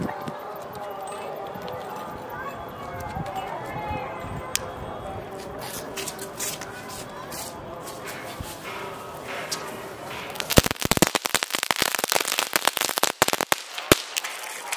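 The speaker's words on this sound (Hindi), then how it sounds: "तो दोस्तों ये ड्रैगन एक्स तो बहुत ही अच्छा था" A Dragon X Diwali firecracker goes off, a long rapid chain of sharp crackling pops and bangs after a stretch of background noise, loud and continuous to the end.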